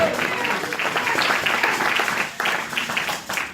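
A church congregation applauds during a pastor's sermon, sustained clapping from a crowd with short dips, mixed with shouts and voices under the applause.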